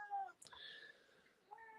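A domestic cat meows in a few drawn-out, tonal calls indoors: one at the start, a higher, longer one after a brief pause, and a shorter call at the end, close and fairly quiet.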